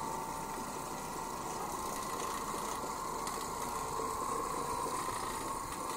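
An Oreck Orbiter carpet cleaning machine runs continuously indoors, a steady mid-pitched motor hum with a dense whirring scrub, unchanging in level throughout.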